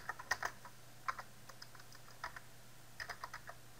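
Keystrokes on a computer keyboard while entering C# code, a run of quick clicks in short bursts with pauses between, close and fairly quiet, with no talking.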